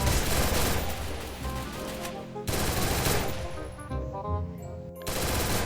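Rapid automatic gunfire in the Free Fire mobile shooter rattles in dense, loud bursts, with short gaps between volleys.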